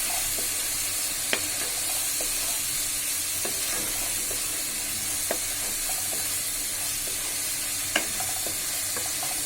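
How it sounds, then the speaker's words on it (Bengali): Spice masala with ground coriander and a splash of water stir-fried in a pan, a constant dense sizzle with faint intermittent scrapes and a few sharper clicks of the spoon, steady and close. "এবার মশলাটাকে আমি কষাবো।"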